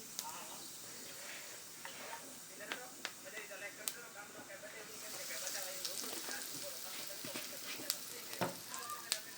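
Whole cumin seeds sizzle in hot oil at the start of a ridge gourd and sponge gourd curry. The low, steady frying hiss is scattered with sharp little pops and clicks.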